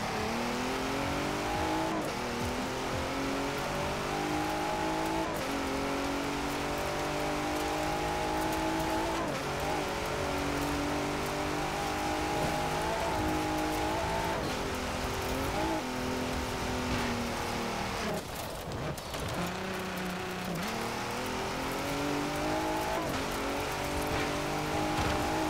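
An off-road truck in Forza Horizon 4 drives through heavy rain. The engine revs and shifts in repeated rising sweeps over a constant hiss of rainfall, loud and close, with a brief dip near the end before it picks up again.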